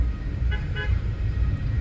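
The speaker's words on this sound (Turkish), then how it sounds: "Kornalar çalıyor." Two short car horn toots sound in quick succession over a steady rumble of passing traffic.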